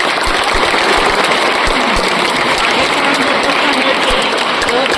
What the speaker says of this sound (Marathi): या ठिकाणी आपण टाळ्या वाजवून स्वागत करू